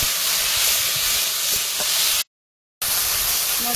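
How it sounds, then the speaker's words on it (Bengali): Spice paste of ground coriander and cumin with a splash of water fried and stirred in a pan, a steady broadband sizzle with scraping stirs, cut by a brief silent gap before resuming. "মশলাটা কষিয়ে নেবো।"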